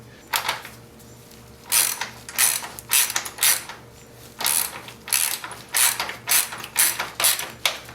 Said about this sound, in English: it makes it easy to tighten it down because the flats on the other side will hold the rod for you